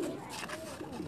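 Large pigeons coo softly on a rooftop loft. The low murmuring coos are faint and brief, set against background noise.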